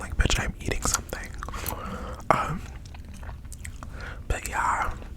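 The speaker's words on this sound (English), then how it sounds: "I cannot chew gum in a cute way." Gum chewed right against the microphone makes wet clicks, smacks and crunchy mouth sounds in an irregular rhythm, loud and intimate, with whispered talk running through.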